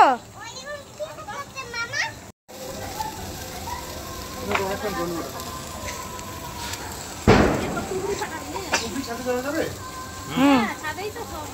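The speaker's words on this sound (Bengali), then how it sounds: "তুমি তো বাজি ফাটাচ্ছ" Firecrackers set off by children, a sharp bang standing out midway among scattered pops, while children's voices chatter and exclaim throughout and an adult speaks.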